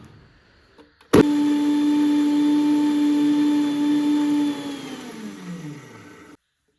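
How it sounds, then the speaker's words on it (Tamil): A kitchen mixer grinder blends tomato, garlic, onion and ginger, starting abruptly with a loud steady motor whine that runs for several seconds, then drops in pitch and winds down before stopping. "தக்காளி கூடவே பூண்டு 1 பல், வெங்காயம், இஞ்சி எல்லாத்தையும் சேர்த்து நல்லா மிக்சியில் நைஸாக அரைச்சி எடுத்துக்கலாம்"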